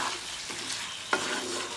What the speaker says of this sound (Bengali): আবার একটু নেড়ে দেব।